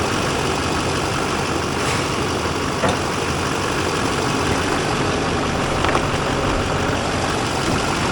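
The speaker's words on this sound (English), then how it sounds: "I'm gonna let it idle." A 2009 Chevrolet Silverado 2500 diesel engine idles steadily after arriving in a non-running state and having its fuel filter housing bled, giving a loud, even, continuous rumble close by with no voices.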